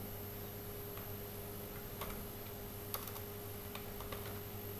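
Light, rapid keystrokes on a computer keyboard as a Linux unmount command is entered, quiet clicks scattered over a steady background hum.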